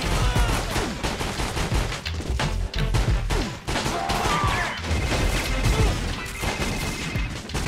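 Dense video game gunfire and crashing impacts from 50 Cent Bulletproof fill the whole stretch, loud and continuous with overlapping shots and booms.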